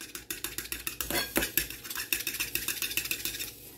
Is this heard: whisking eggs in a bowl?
yes